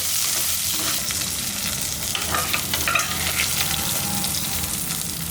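Coriander leaves sizzle loudly and steadily in a hot pan while cooking goat head curry, a dense unbroken frying hiss with occasional stirring scrapes, close up and without speech.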